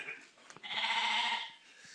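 A single ram from Kyrgyzstan lets out one wavering bleat, fairly close, amid quiet farmyard sounds.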